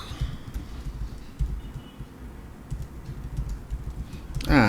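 Computer keyboard typing a command on a Linux terminal, a run of soft, uneven key clicks close to the mic, ending in a louder burst of keystrokes.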